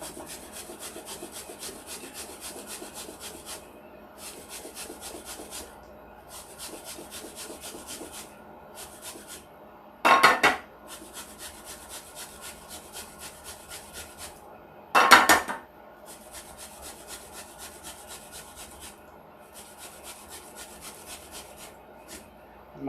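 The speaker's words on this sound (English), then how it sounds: "I'm going to take it and shred it on my box grater on the thickest side" Bread for croutons rubbed down the coarsest side of a metal box grater, a steady run of rhythmic rasping strokes, close and fairly quiet, broken by two brief louder knocks.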